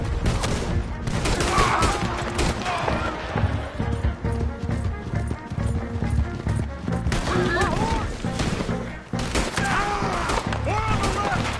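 Loud, dense gunfire from a shootout in Red Dead Redemption 2, with rapid overlapping shots ringing out continuously alongside horse hooves and shouting voices.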